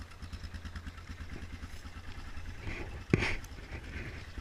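A 2004 Yamaha Kodiak 450 ATV idles after a cold start in the snow, its engine a faint, steady, low pulsing chug with one brief clack partway through.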